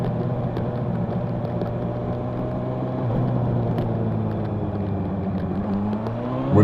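A Honda CB1000R Black Edition motorcycle ridden through downtown traffic, its engine exhaust droning steadily close up with a low, even tone that rises slightly near the end as the throttle opens.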